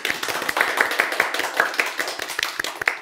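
A small seminar audience claps to welcome a cooperative chairperson onto a lecture stage, a steady run of fairly close, crisp handclaps lasting the whole moment, with no talk over it.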